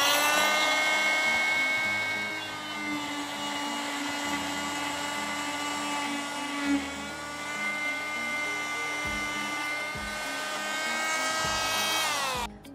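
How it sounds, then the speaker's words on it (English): A steady high-pitched whine of a powered saw grinding through bone during a dissection, continuous and loud for several seconds before cutting off. "angle the saw in order to place the blade perpendicular to the bone that's being cut"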